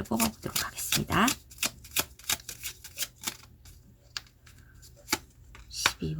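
Tarot cards being shuffled and drawn at a table, a run of sharp close riffles and slaps in an uneven rhythm, some quick clusters and isolated snaps, with a voice speaking quietly between them.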